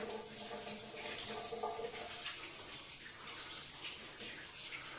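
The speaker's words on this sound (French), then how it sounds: "on va pouvoir la dessaler tout simplement à l'eau courante" Tap water runs steadily into a sink as salted pork loin is rinsed under it, a continuous splashing hiss with small shifts as the meat moves through the stream.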